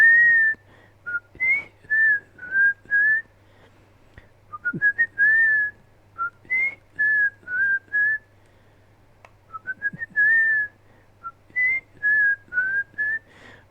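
A person whistles a clear, bright tune alone in short phrases broken by brief pauses, close and steady over a faint low hum.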